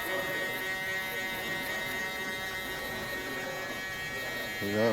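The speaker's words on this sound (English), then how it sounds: "Now I'll just take the shaver and clean up the stubble so it'll look a lot cleaner." A steady electric shaver buzz hums continuously at close range while trimming stubble during a haircut, with a slight swell near the end.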